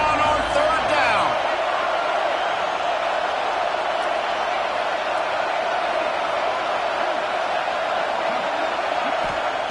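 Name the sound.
Florida Gators stadium crowd roaring on third down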